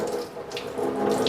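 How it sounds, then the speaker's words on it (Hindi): Leftover water draining out of a water filter's cover as the filter is removed during servicing, a steady close splashing trickle like a running tap, continuous and alone. "ये बचा हुआ पानी कवर से भी निकल रहा है"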